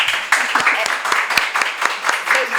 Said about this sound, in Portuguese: Vocês batem palmas por tudo